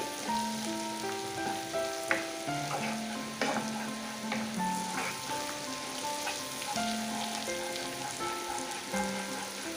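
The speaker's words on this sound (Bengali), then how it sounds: "আমাদের এখানে গার্লিকটাকে হালকা করে একটু বাটারের মধ্যে একটু ভেজে নিতে হবে।" Garlic frying in butter in a pan, a steady soft sizzle with light crackles and occasional stirring scrapes, close and continuous, with background tones running throughout.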